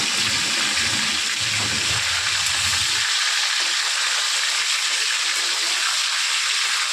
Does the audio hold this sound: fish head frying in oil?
yes